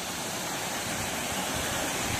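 Waterfall in the Garden of Caves at Cherrapunji, Meghalaya: a steady, even hiss and rush of falling water, constant throughout with no voices.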